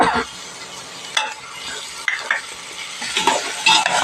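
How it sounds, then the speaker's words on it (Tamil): A spoon stirs yogurt into chicken masala in a pan for biryani, scraping and sizzling in repeated close strokes. "அதையும் நல்லா இணக்குறோம். நல்லா அப்படி வதக்குங்க."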